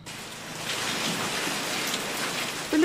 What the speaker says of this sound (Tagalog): Tuloy-tuloy ang ulan sa Mamburao,